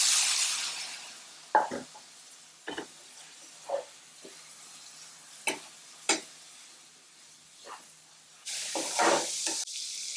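Madras curry sizzling in a hot pan while being stirred: a steady frying hiss rises at the start and end, with scattered clinks and scrapes of the spoon against the pan in between. No voices.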